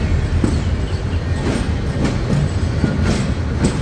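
Paharika Express pulling out of Chittagong railway station, its carriages rolling with a steady clickety-clack and broadband rumble, close and continuous, with no voices.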